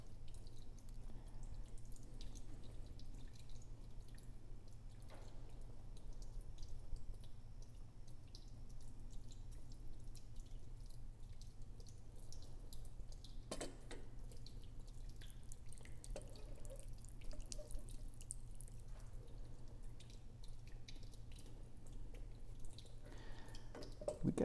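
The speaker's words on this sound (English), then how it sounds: "We get a slight drip across our shutoff valve, I think." Water drips slowly from a shutoff valve on a backflow preventer, sparse faint ticks over a steady low hum, with one sharper drop standing out midway.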